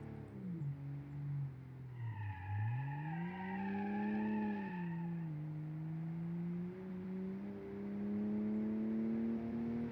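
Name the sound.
boxer six car engine driving, from a video game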